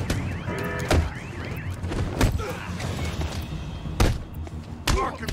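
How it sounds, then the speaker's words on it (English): An alarm goes off in the video game Batman: Arkham City, a repeating electronic warble heard among heavy combat thuds and impacts, with voices mixed in. "That alarm, I forgot about the alarm."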